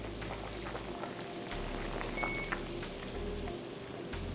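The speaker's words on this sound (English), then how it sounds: "Our spinach is almost done boiling." A pot of spinach bubbles and simmers steadily with a soft, rain-like crackle, plus a brief faint beep partway through.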